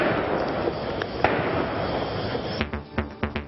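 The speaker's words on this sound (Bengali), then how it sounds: "গোলাগুলি ও গ্রেনেড নিক্ষেপ।" Gunfire and grenade blasts during a police raid on a suspected militant hideout: continuous loud crackling din with sharp bangs, then a run of distinct heavy reports toward the end, with no talk.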